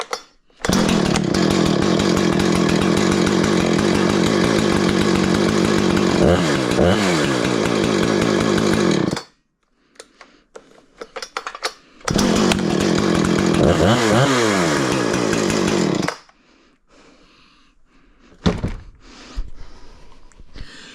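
A Husqvarna chainsaw, either a 240 or a 455 Rancher, runs loud and close in two long sustained bursts with a gap between, then drops to faint sputters and knocks.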